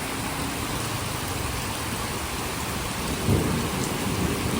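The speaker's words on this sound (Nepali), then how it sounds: "बर्खा लागेको बरै" Heavy, unseasonal monsoon rain pours steadily in a Nepali village, a dense continuous roar with a low rumble of thunder swelling briefly near the end.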